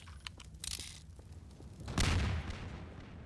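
Explosions in the video game Half-Life 2: a loud booming blast around the middle, preceded by scattered sharper bangs and crackles, with low rumble throughout.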